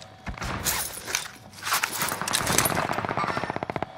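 Rapid automatic gunfire in a shooter video game, bursts of close shots building into a fast regular rattle near the end, mixed with footsteps and game noise, with no voices over it.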